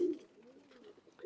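A chat pigeon coos once, a short soft rolling call heard close and clear against a quiet background.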